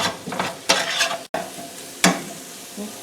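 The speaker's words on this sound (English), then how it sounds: "So we'll keep stirring this and cooking it until we get some color on it." Meatloaf meatball stew being stirred and browned in a pan, with loud scraping stirs in a few separate bursts over a low sizzle, up close and without talk.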